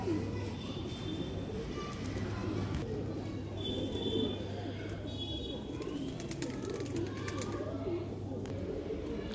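Highflier pigeons coo softly nearby in low, rolling calls over a steady background hum, the cooing repeating in loose bursts throughout.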